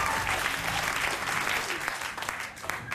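Studio audience at a Demetri Martin stand-up comedy show clapping steadily for the comedian, a dense, loud wash of applause that holds for a few seconds and thins slightly near the end.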